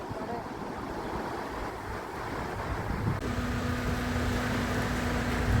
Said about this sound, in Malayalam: അങ്ങനെ തോട്ടട ബീച്ച് കഴിഞ്ഞ് നമ്മൾ ആദികടലായി ബീച്ചിലെത്തി.